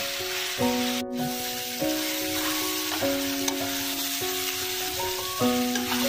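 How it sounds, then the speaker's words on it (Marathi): Masala spices, tomato and black pepper roasting in a pan produce a continuous soft sizzle under background music, with one brief sharp burst near the start. "आपला टमाटर मेल्ट होईपर्यंत मसाला भाजून घ्यायचा"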